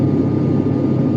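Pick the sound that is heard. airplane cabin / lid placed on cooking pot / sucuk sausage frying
airplane cabin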